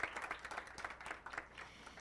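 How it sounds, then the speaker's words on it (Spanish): Scattered applause from the audience at a teachers' panel discussion, closing one panelist's turn; light, uneven clapping at moderate distance, fairly faint, with no one speaking over it. "Rebeca, el aplauso para ella."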